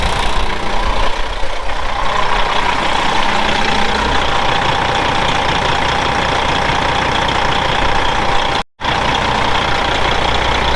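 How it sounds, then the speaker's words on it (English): An idling 1999 Kenworth W900L diesel truck rumbles loudly up close as its vibrating grille adds a steady rattling buzz, running without pause except for a brief dropout near the end, with no voices. "The grill does vibrate a little bit, and that's what's making that noise."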